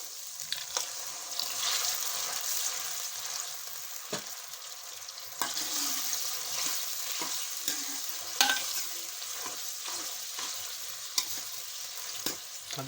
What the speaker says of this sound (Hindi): हल्का सा पानी लगा के मसाले को भूनेंगे ताकि ज़्यादा जल नहीं जाए